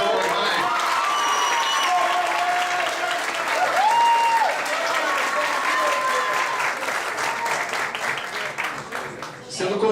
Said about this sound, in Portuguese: peço uma grande salva de palmas à nossa vereadora Georgia